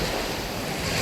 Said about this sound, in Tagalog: malakas pa rin yung alon tsaka yung hangin